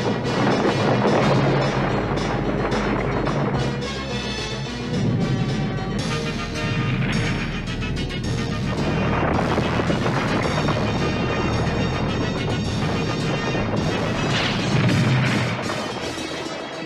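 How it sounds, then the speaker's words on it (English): A cartoon tremor shakes a cave hive, a continuous deep rumble layered with repeated crashing and smashing bursts, loud and dense throughout with no speech. "A tremor! The eggs will be crushed!"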